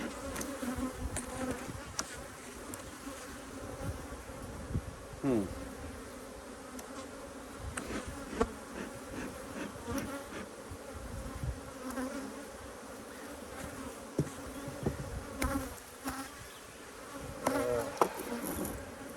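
Honey bees hum in a dense, steady drone around a hive, with individual insects buzzing louder as they zip close past and then drift off, continuous and close throughout.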